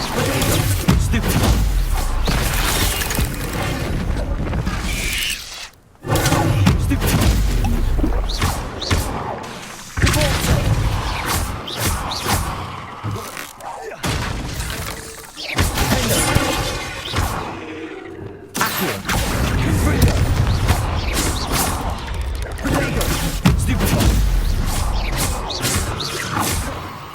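Spell combat in the Hogwarts Legacy video game: repeated thuds, whooshes, slams and crashing impacts in a dense, loud stream, with short gaps and a voice casting spells over the action.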